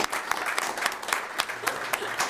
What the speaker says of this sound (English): I'm just gonna clap a little bit.